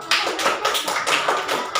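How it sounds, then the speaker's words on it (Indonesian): Classroom applause for a student group, a steady burst of many hands clapping together, fairly loud and continuous with no talking over it. "beri tepuk tangan dulu untuk kelompok 1"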